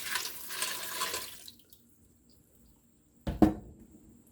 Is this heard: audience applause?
no